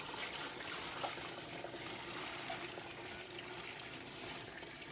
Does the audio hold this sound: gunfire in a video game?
no